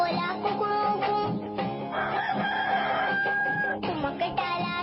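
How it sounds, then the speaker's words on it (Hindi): A rooster gives a loud, close cock-a-doodle-doo in a children's poem, with harmonic calls stretched over several seconds and short pauses between phrases. "मुर्गा बोला कुकड़ू कू"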